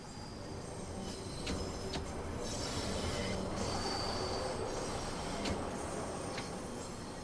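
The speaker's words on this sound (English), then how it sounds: "the train's going to be naturally accelerating anyway" A train in Train Sim World 2 rolls downhill and picks up speed on a steep grade, giving a steady rumbling run with occasional high wheel squeals and clicks, heard alone without talk.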